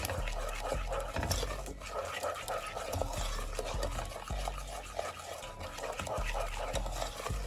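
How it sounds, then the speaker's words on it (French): Brownie batter being stirred by hand as sugar is worked in, a steady rhythmic scraping and swishing of utensil against bowl repeating about once a second, close and continuous with no talking. "Je vais bien mélanger le tout jusqu'à ce que le sucre se dissout dans la préparation"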